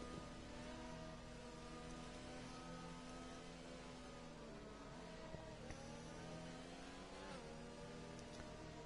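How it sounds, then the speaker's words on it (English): Formula 1 cars in a racing video game rev together behind the safety car before a restart at the Belgian circuit, a dense continuous engine drone with layered tones that shift slightly in pitch. "look at all the cars trying to warm up their tires properly"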